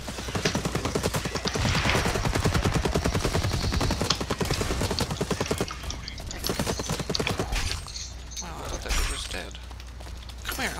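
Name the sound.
gunfire in video game Blacklight Retribution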